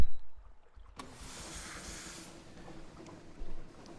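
Ship engines in the video game Sunless Sea start up with a sudden broadband rumble and wash after a quiet opening. The churning drone holds steady with a brief swell near the end, and no voices are heard.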